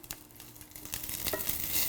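Vegetables sauté in a pan, a soft sizzle with light stirring scrapes that builds slightly louder over a couple of seconds, faint and without speech.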